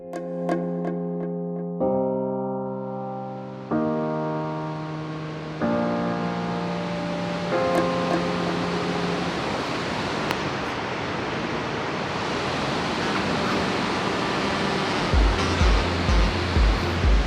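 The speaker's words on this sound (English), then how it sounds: "it was thought to be the tallest waterfall in all of Europe" A tall Icelandic waterfall roars as a constant broad wash of rushing water, building in strength after a few fading piano-like tones at the start.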